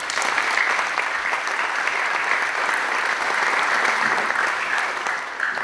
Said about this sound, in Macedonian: Предлагаме со овој аплауз да кажеме дека е и за вас сите